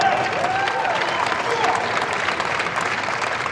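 A crowd at a women's amateur bowling stepladder final applauds steadily for a few seconds, a dense even clatter of clapping with a faint voice talking over it.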